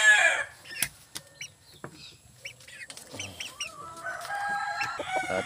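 Backyard Pumpkin Sweater chickens with yellow legs, a rooster crowing among repeated clucks and other fowl calls, close and fairly loud, with no talking.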